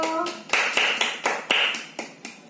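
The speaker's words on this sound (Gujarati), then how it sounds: "જેન્સી માટે તાળી પાડો" Children clap for the winner of a coin game played at home: a short run of about nine sharp, evenly spaced claps, close and moderately loud, with a brief voice at the start.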